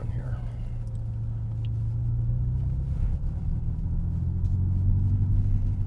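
Chinese electric car's synthesized engine sound imitating a combustion engine, a low droning hum that rises in pitch like revving, heard from inside the cabin with a voice speaking over it.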